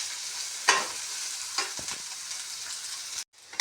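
Potatoes and green chillies are sautéed in a pan with a steady close sizzle. A few sharp stirring scrapes break through before a brief silence near the end.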